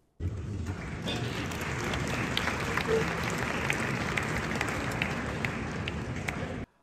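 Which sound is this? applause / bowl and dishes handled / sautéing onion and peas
applause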